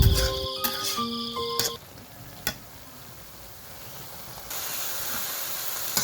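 Long beans simmering in a little water under a lid in a village kitchen, a steady soft steam hiss and faint bubbling after a few clinks of the pot at the start, fairly quiet and with no voices.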